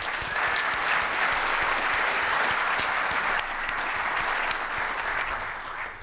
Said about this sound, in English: Want a round of applause for Rick and Angel and their team